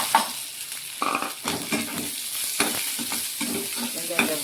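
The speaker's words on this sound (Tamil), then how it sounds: "இப்போ வந்து வெங்காயத்தை போட்டுக்கலாம்." Chopped onions sautéing in a hot pan of oil for ragi semiya upma, with a steady sizzle and frying crackle, occasional stirring scrapes and clinks near the mic, no talking.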